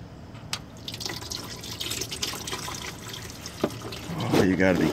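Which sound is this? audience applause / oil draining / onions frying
oil draining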